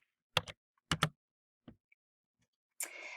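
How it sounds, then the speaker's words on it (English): Typing on a computer keyboard while entering a web page reference: a few short bursts of key clicks, then a denser run of rapid keystrokes at the end, fairly quiet with no talk. "So we will type that here, not in italics."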